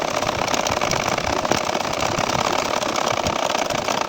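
An ordinary sewing machine runs fast along chalk lines, stitching a champa-flower nakshi kantha quilt. It gives a loud, steady, rapid mechanical rattle up close that is continuous throughout, with no talking.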